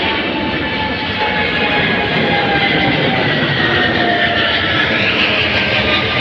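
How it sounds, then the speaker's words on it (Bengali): A train approaching on a railway makes a loud, steady rumbling roar with a faint whine riding on top, continuous and close. "দেখুন একটি ট্রেন আসতেছে"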